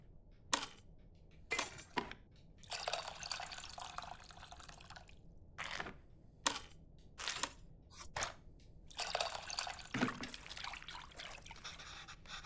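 Tamarind water strained through a sieve in the Venba video game: scattered drips and short liquid trickles with light splashy bursts, fairly quiet and irregular, no voices.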